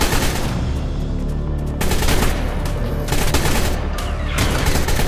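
Rapid automatic gunfire in the video game ARK Survival Evolved as players shoot at a creature in a cave, loud continuous bursts with brief pauses between them.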